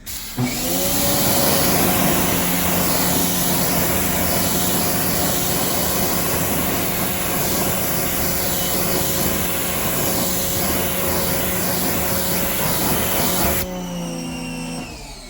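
A pressure sprayer rinses car wheels in a steady, loud, continuous hiss and motor drone that holds for most of the stretch before cutting off near the end.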